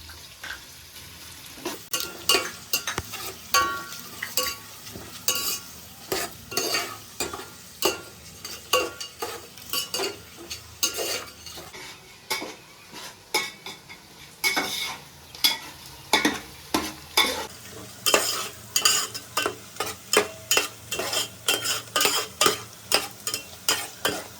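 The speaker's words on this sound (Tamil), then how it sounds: "நான் இப்போ வந்து வெங்காயத்தை சேர்த்துக்கிறேன். வெங்காயம் நல்லா சுருங்கணும்." Sliced onions frying in oil for a vegetable biryani, stirred steadily with a spoon against the pot, giving a continuous close sizzle broken by repeated scraping clatters and no talk.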